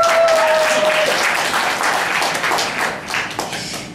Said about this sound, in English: we have a round of applause for that scene